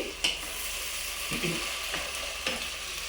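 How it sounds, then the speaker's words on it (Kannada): Tomatoes sizzle and fry steadily in a hot pan of fried onions, a continuous crackling hiss with a few brief stirring scrapes, close and alone with no talking. "ಇವಾಗ ಅಟ್ ದಿಸ್ ಸ್ಟೇಜ್ ನಾನು ಟೊಮೆಟೊನ ಹಾಕ್ಕೊತೀನಿ ನೋಡಿ"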